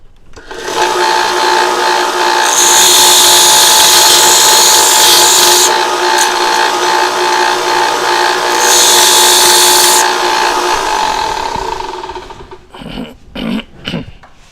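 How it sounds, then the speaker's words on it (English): A belt sander grinds down a piece of silverware in a loud, steady motor roar, with the pitch rising in two bursts as metal is pressed against the belt, then a few short grinding touches as it winds down. "so I'm going to put it to the belt sander"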